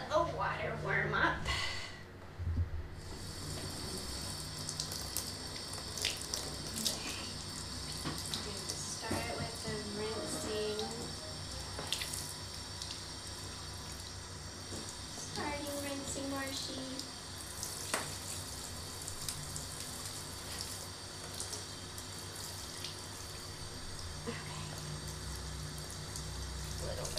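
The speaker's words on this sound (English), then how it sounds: "gotta let the water warm up" Tap water runs into a tub before a small dog's bath, a steady faint hiss of flow under scattered brief knocks and bumps, with people talking now and then.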